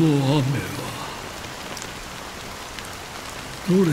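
Steady rain falling in the video game Honkai Star Rail, a continuous broadband patter that fills the scene, with a voice speaking briefly at the start and again at the end.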